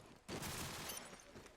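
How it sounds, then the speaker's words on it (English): Tracer gunfire in Call of Duty 4 during a competitive match, a dense burst of rapid shots running steadily for over a second at a fairly faint, distant level. "You can hear the tracer fire"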